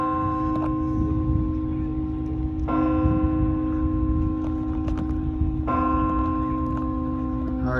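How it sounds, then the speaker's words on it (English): Church bells chime the 4 p.m. hour at an Episcopal church, several ringing strikes with long sustained overtones sounding over a low rumbling background, fairly near and moderately loud. "Here, the 4 p.m. chimes."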